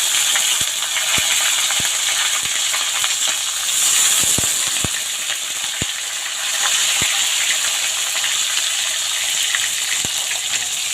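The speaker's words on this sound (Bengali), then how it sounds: "এগুলো মিডিয়াম আঁচে ভেজে নেওয়াই ভালো" Hot oil sizzles over medium heat with a continuous mid-level crackling hiss, broken by scattered sharp clicks and taps from a utensil.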